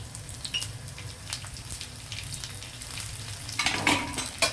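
Raw banana and capsicum pieces with garlic stir-fry in a pan, a soft steady sizzle with occasional scraping stirs that grow louder toward the end, heard without talk.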